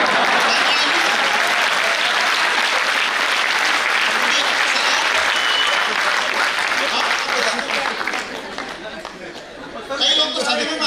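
An audience claps loudly and steadily at a motivational business seminar, with crowd chatter and light chuckling mixed in. The applause dips briefly near the end, then swells again.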